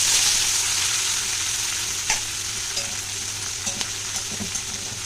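Tomatoes frying in hot oil in a pan, a continuous bright sizzle with a few soft clicks and stirring knocks, close and steady, no talking.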